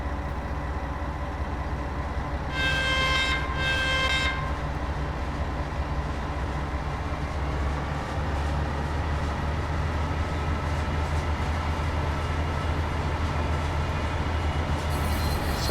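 A DB BR 363 V60 diesel shunter in Deutsche Bundesbahn blue livery on a Dresden route in a train simulator rumbles steadily, with a brief two-tone horn blast early on and a deepening engine drone later.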